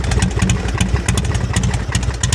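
A Harley-Davidson Sportster motorcycle engine, hot after chain-drive work, idles close up, loud and steady with a rapid, lumpy, clattering rhythm throughout.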